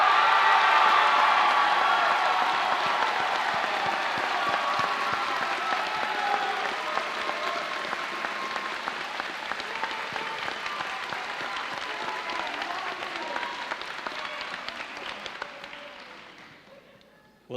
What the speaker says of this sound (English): Let us give our young adult a round of applause